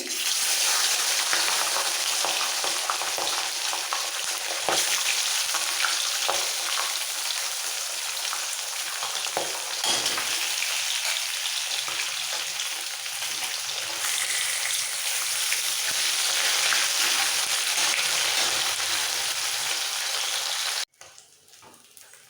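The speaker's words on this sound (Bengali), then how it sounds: "তেল ভালোভাবে গরম হয়ে গেছে এবার নুন হলুদ মাখানো মাছগুলো ছেড়ে দিচ্ছি" Rohu fish pieces rubbed with salt and turmeric fry in hot oil, giving a loud, steady, close sizzle and crackle that runs almost unbroken for about twenty seconds before cutting off abruptly, with no voices.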